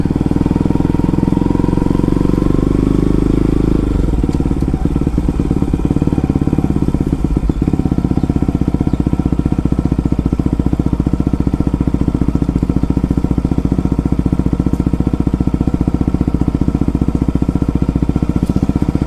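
A 2023 Bajaj Pulsar NS160 fitted with an aftermarket Akrapovic exhaust idles loud and close, giving a deep, steady thrum. The tone shifts after a few seconds, then settles into an even, rattly beat.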